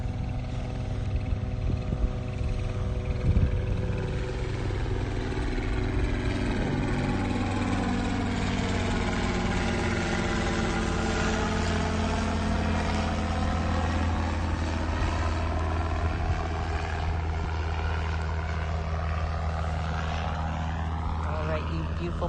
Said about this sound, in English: Here comes the helicopter. I hear it.